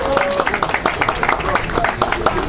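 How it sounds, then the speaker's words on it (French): Audience applause at a Martinique tourism talk show, a steady stream of scattered hand claps welcoming Cuba's delegation, moderately loud and mixed with some voices. "applaudissons Cuba"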